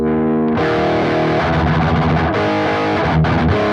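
Heavily distorted electric guitar dialled toward a thrash metal tone, starting with a sustained chord and then chugging, palm-muted riffing that stays loud and dense throughout.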